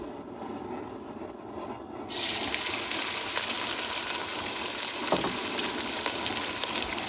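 Beef fat sizzles on an outdoor cooker, a soft crackle that suddenly swells into a loud, bright, continuous hiss, with occasional pops and a brief scrape midway through.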